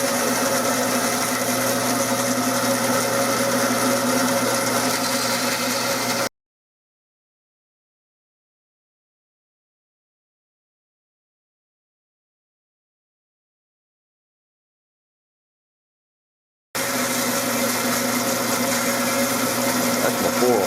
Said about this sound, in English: Well, my bandsaw had a little hitch in its get along. I need to replace the tire on my lower wheel, but I think it'll work just to cut this out.